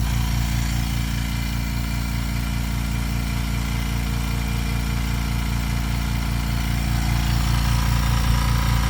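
Harbor Freight ultra quiet air compressor running in a home garage, a steady low motor hum with an even mechanical pulse that holds unchanged throughout, close and continuous.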